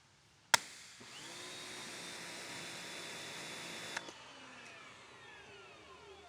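A Karcher K1700 pressure washer: a sharp click, then its electric motor hums steadily for about three seconds before shutting off with another click and winding down, close and fairly quiet.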